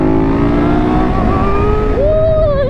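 A 750cc sport bike engine revs loud and close with a steady, high-pitched drone that rises sharply near the end.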